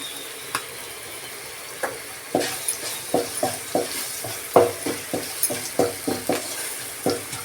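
Rice tinted with turmeric fries in oil in a pan while a spoon stirs it, giving a steady close sizzle broken by repeated scraping strokes against the metal, about a dozen in quick rhythm.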